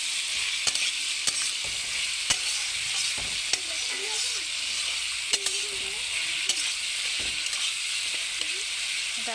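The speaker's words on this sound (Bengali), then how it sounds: "এদিকে আমার আলু পটল কুঁদরি একসঙ্গে ভাজা হচ্ছে।" Potato, pointed gourd and ivy gourd fry together in a pan with a steady, even sizzle, broken by occasional clicks and scrapes of stirring.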